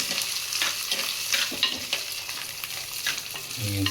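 Onion and green chilli sauté in an oiled pan for homemade curd rice while a ladle stirs them. A steady sizzle is broken by repeated rhythmic scraping strokes, close and fairly loud.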